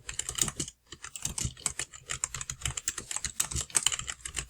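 Fast, steady typing on a computer keyboard, a dense close run of crisp key clicks with one brief pause near the start, heard alone.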